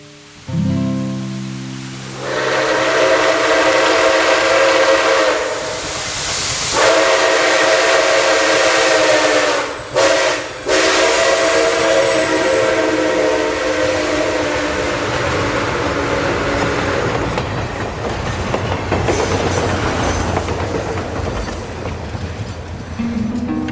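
Steam locomotive 765 on a scenic excursion through Ohio, Indiana and Michigan sounds long, loud whistle blasts over the heavy, continuous rumble and clatter of the running train, with the chuffing and wheel noise carrying on after the whistle fades.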